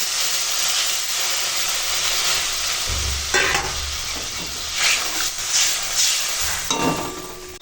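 Water poured onto a fried Bengali spice paste for a sour lentil dal with fish sets off steady, loud hissing and sizzling, with bursts of bubbling and stirring scrapes in a pan, no voices.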